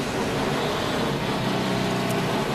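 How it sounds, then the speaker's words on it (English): NASCAR stock cars idle around the track on pace laps at Charlotte, a steady broad engine drone with crowd and ambient wash, continuous and moderately distant with no talk over it. "as the cars work through the second of their 3 pace laps"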